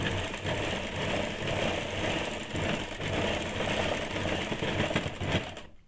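A sewing machine stitching the side seam of a high-neck blouse runs in a continuous fast mechanical whir with rapid needle clatter, steady and close for several seconds before stopping abruptly.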